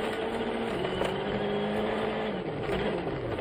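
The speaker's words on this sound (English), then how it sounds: "You can hear much more stones, much more aggressive, the underbody car protection getting whacked." Rally car at speed on a rutted gravel stage in Poland, engine droning steadily up close with a rising tone, stones rattling and whacking against the underbody protection throughout.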